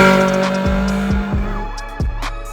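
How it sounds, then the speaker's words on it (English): A Honda K20 engine revs hard in several quick rising and falling sweeps, loud and close, with no voices. "But here's my favourite engine,"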